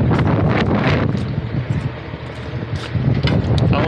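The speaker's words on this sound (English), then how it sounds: "It's a sucking wind." Strong headwind buffeting a microphone out on a snowy road beside a loaded rig, a loud continuous roaring rush with gusty swells that dips briefly before surging again.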